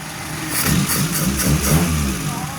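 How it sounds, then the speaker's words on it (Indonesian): A cold Suzuki Forsa car engine idles steadily and evenly at close range, a low rumble with a gentle pulsing rhythm and no voices. "Ini settingannya sudah pas, suaranya juga enak, stasionernya juga anteng, mesinnya juga dingin."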